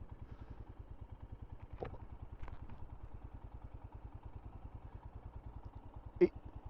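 A Royal Enfield Himalayan 411 motorcycle engine idles with a steady, lumpy thumping rhythm throughout, with a couple of brief clanks and a sharp click near the end.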